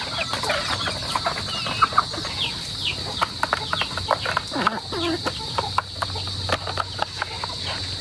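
A flock of chickens clucks busily in overlapping bursts, with crickets chirring steadily in the background.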